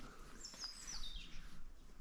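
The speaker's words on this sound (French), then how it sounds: "Grive." A thrush gives a single thin, high whistled call, faint and distant, over a quiet outdoor background during a traditional woodpigeon hunt.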